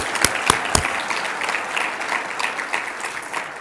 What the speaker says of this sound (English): Don't you think our panelists deserve another round of applause for all they've done?